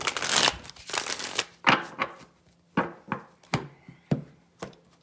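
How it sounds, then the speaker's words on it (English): Tarot cards shuffled up close: a quick riffling burst, then a series of separate soft slaps and taps as the deck is cut and squared. "All right, one more shuffle."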